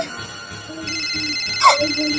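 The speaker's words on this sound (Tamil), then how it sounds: "மறுபடியும் போன் அடிக்குதே." An electronic phone ringtone rings indoors in a Tamil comedy skit, a steady tonal ring with a louder burst partway through, and no voices over it.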